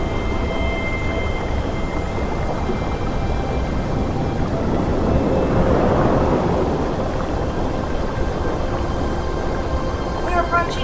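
Thunderstorm sound effect aboard the Disneyland Finding Nemo submarine ride, a continuous low rumbling roar that swells near the middle, heard inside the cabin with announcements and mechanical hum.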